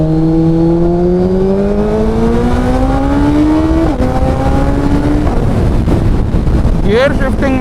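A Suzuki Hayabusa motorcycle fitted with an M4 exhaust revs loudly and close, climbing through rising engine pitch, dipping at a shift, then revving again, with heavy wind noise on the microphone.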